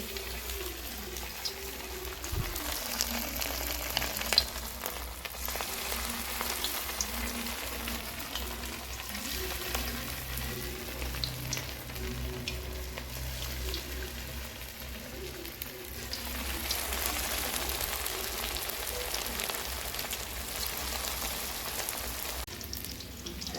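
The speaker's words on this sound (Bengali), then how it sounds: "তেল গরম হয়ে গেছে পকোড়াগুলো ভেজে নিচ্ছি" Chicken pakoras deep-fry in hot oil in a pan, a continuous dense sizzle and bubbling crackle heard up close with small clinks and shifts, swelling slightly partway through, with no speech.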